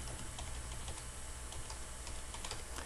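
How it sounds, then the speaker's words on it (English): Continuous typing on a computer keyboard, a steady patter of close key clicks over a constant background hiss, with no voices. "I'm going to type"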